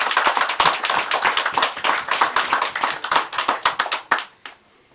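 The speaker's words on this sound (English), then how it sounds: "I want you to give a lusty round of applause to Mr. Wren" A room full of people at a bridge opening applauds steadily for several seconds, then the clapping quickly dies away to near silence.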